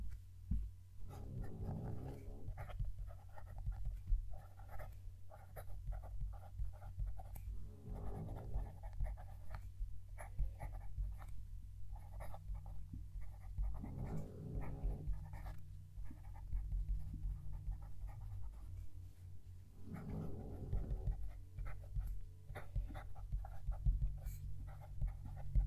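A fountain pen nib scratching across paper as a sentence is written, with quiet recurring strokes and scritches, a steady low hum behind them and no speech.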